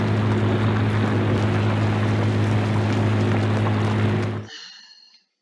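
In Farming Simulator 19, a 1950s-era turbocharged 73-horsepower tractor engine drones loud and steady with a deep, constant hum. It cuts off sharply near the end and a brief tail fades out.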